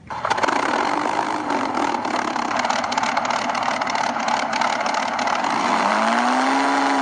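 Engine starting and idling from a sound unit in a 1/35-scale Orlando model tank, a steady electronic rumble held at an even level from start to finish, with a rising whine coming in near the end.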